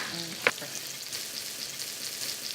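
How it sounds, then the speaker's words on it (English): Butter browning and sizzling in a pan while preparing a Brie and fall fruit appetizer, a steady close hiss with a single brief clink near the start. "as that starts to brown, I'm seeing the butter start to brown"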